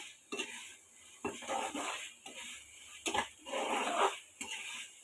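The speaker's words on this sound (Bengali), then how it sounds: "তখন আমি হাই ফ্লেমে একটু 4-5 সেকেন্ডের মতো একটু এটাকে সটে করে নেয়" Vegetables sautéed on high flame in a pan hiss and crackle in repeated bursts as a utensil scrapes and tosses them, roughly four loud rounds of stirring separated by brief quieter moments, close and without talk.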